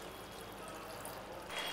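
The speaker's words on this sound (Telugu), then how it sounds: "కొంచెం వాటర్ అయితే వేస్తున్నాం." Water is poured into a simmering vanjaram fish curry, giving a steady, soft trickling pour that continues throughout and swells slightly louder near the end, with no talking.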